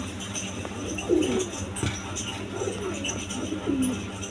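Pigeons of various breeds kept for sale make soft, low cooing calls that repeat several times at a moderate distance over a steady background hum.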